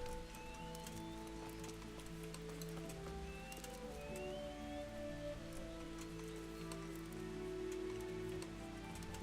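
Steady rain falls across the whole clip in the video game Kingdom Come: Deliverance, a dense even patter with occasional brighter drops, and a low ambient hum and tonal background sit underneath.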